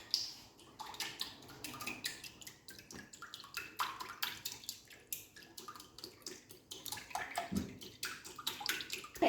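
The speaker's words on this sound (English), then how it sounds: "Now we're going to whisk." A cracked egg whisked in a bowl while making chocolate and banana French toast: quick, steady clinking and sloshing strokes, fairly quiet and close, with no talking.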